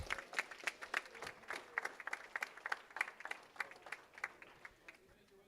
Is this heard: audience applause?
yes